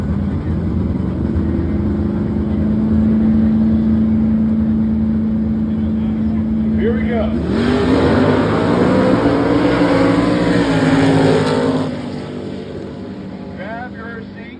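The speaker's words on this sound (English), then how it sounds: "Fast, 8 dragsters taking on fast, 8 door cars." Fast 8 dragsters and door cars at Gulfport Dragway, a steady loud engine drone that swells into a roaring launch midway and then eases off, with a brief spoken phrase.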